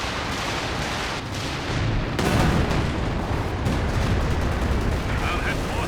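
Bombs and artillery shells land in a Company of Heroes 2 2v2 battle, a dense run of booming impacts and gunfire rumbling continuously under game noise, with heavier blasts swelling near the middle.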